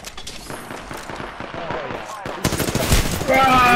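Rapid automatic gunfire in a battle royale shooter, building into loud, sustained bursts toward the end while players talk over the shooting.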